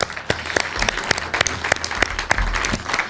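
Audience at a political talk event in Catalonia applauds with moderately loud, dense clapping and scattered sharper claps standing out, and no voices over it.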